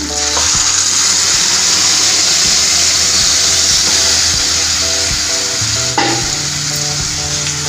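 Boiled lentils go into a sizzling Telugu-style tempering and are stirred, a loud steady sizzle with scraping spoon strokes throughout and a brief splashy burst near the end, no talking.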